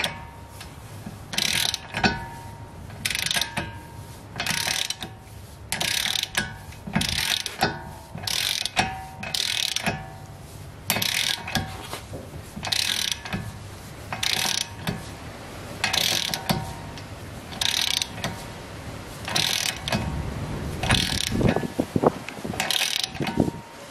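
A ratchet socket tightens a 21mm nut on a Mazda wheel stud, clicking in repeated close bursts of rapid pawl ticks separated by short pauses, steady and fairly loud with no talking.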